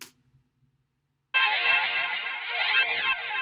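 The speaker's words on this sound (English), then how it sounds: "I put these effects on it. It's just a bandpass narrow EQ and a Valhalla delay." After a brief silence, a synth sample filtered through a narrow bandpass EQ enters as a thin, nasal sustained tone, with Valhalla delay adding echoing, sweeping repeats that ripple through the held sound.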